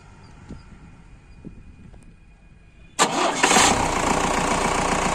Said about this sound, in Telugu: ఒకసారి ఇంజిన్ కూడా స్టార్ట్ చేసి చూపిస్తామండి